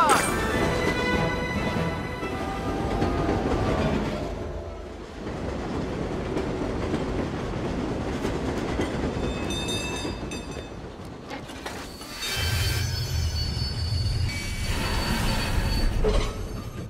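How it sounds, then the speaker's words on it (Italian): Ghost train in the Disneyland Adventures haunted house game, rolling along with squealing wheels, rhythmic clatter and layered music and effects, loud and busy, with a short pause midway before the rumble returns heavier. "Fermiamo il treno prima che sia troppo tardi!"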